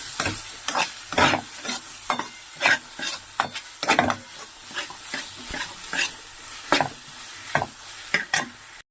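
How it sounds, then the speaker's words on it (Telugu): Masala paste for a fish curry being stirred in a pan, close rhythmic scraping and clattering strokes roughly twice a second over a soft frying sizzle, with no talking. "ఇది వేసుకుని మసాలా బాగా కలిపిస్తాం"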